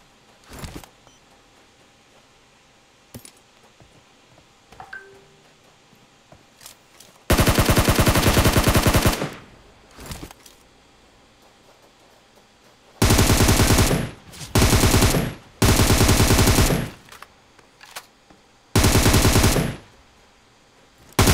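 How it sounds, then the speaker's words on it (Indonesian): Automatic gunfire in a shooting video game scrim, loud sustained bursts of one to two seconds repeating several times after a stretch of quieter game sounds and scattered single shots. "Siapa yang tembak saya dari jauh tadi tu?"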